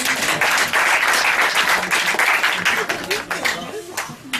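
Audience applause at an improvisation comedy show breaks out loud and sustained, a thick patter of clapping that thins toward the end while voices murmur underneath.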